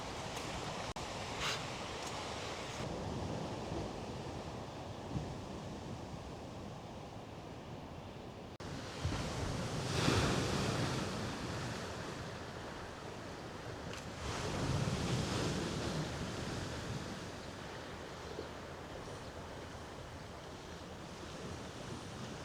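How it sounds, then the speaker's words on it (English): Wind gusts across a coastline as waves break and wash in, a steady hiss of surf with louder surges now and then and buffeting wind noise on the microphone; no voices. "It's a windy start."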